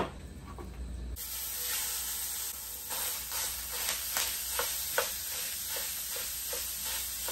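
Ground beef sizzles and browns in a pan for a casserole, a steady close hiss starting abruptly after a moment of quiet, with soft scraping stirs and small pops scattered through it.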